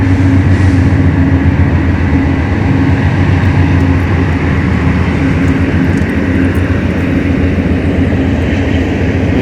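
A loud, steady low rumble of a passing train on the Ohio River bank continues throughout, with a dense roaring wash and no voices.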